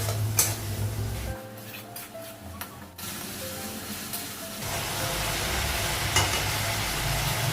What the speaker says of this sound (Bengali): লঙ্কা গুঁড়ো আদা বাটা দিই মশলাগুলো একটু ভেজে নেব